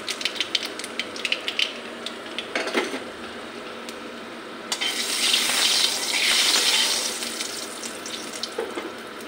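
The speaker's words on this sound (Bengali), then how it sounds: "এখন একটা শুকনো লঙ্কা দিয়ে দেব। কালি জিরা ফোড়ন দিয়ে করব, গোটা কালি জিরা দিয়ে দেব।" Dried red chili and whole nigella seeds hit hot oil, giving a steady, fairly soft hiss that swells into a stronger sizzle midway, with scattered small pops and clinks.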